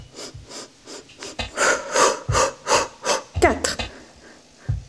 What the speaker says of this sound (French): 5 respirations.